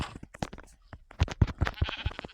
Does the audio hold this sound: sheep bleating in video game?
yes